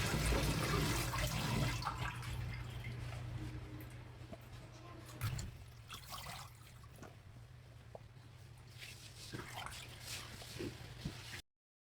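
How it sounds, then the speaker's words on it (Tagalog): Leafy sweet potato tops being washed under a running tap, with a steady close rush of water and splashing that fades to quieter trickles, drips and occasional handling noises, and no one speaking. "sa ating mga madadahon na gulay, kailangan natin hugasan ng maigi."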